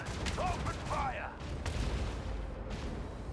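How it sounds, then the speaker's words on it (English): Macro cannons firing in Warhammer 40K: Rogue Trader, a rumbling barrage of heavy booms and explosions over a low rolling roar, with a few bursts of speech early on. "Macro cannon. Open fire."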